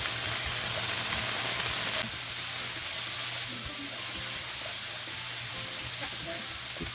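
Chives and spoonfuls of butter sizzle and fry in a hot pan for a real-world Fallout 76 firecap soufflé, a steady close crackling hiss throughout with a few light stirring clatters and faint talk.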